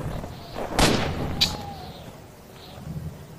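Two heavy gunshots boom in the game Z.O.N.A Shadow of Limansk Redux, a loud close blast followed by a second sharper crack, trailing into quieter ambient noise.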